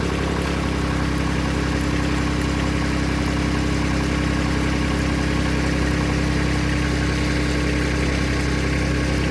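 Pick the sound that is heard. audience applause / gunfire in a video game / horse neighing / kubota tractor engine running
kubota tractor engine running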